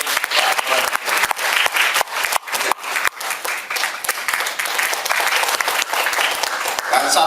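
Loud, sustained audience applause at an opening event in Indonesia, dense clapping filling the whole stretch with a few brief dips, close and crowded.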